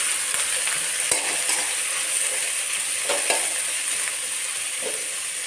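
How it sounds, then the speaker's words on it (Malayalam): Green chillies and curry leaves are stirred into a chicken curry in a pan, with a continuous bright sizzle of frying and occasional scraping strokes of the spoon, close and steady. "പിന്നെ പച്ചമുളകും കറിവേപ്പില എല്ലാം കൂടി ഇട്ട് കൊടുക്കാം. മിക്സാക്കി കൊടുക്കാം."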